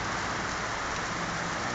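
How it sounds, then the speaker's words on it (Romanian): Heavy rain pouring down in Sinaia, Romania, while people shelter under a tree: a dense, loud, unbroken hiss of downpour with no voices. "a început să plouă"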